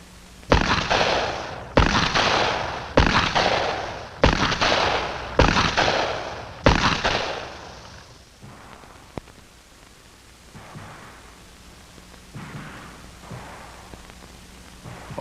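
Six loud handgun shots ring out at steady intervals during FBI shooting training on a range, each a sharp crack with a short decay, then the firing stops and only faint room tone and small noises remain.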